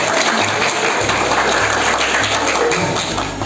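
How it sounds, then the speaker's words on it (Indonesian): Audience at a high school literacy outreach event in a hall applauds steadily, a dense, sustained clapping that holds loud for several seconds with no talk over it. "tepuk tangan dulu untuk kita"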